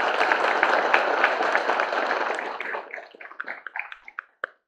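An audience applauds at a candidate registration event for the Reina de Ambato 2020 pageant: a full, steady burst of clapping that thins after about three seconds into a few scattered, separate claps before stopping.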